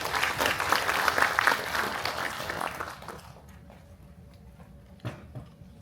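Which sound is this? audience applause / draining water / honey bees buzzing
audience applause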